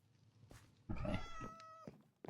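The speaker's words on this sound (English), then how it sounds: "I hear you, kitty." A cat in the Minecraft video game lets out one clear, fairly close meow lasting about a second, set against quiet background sound with no speech.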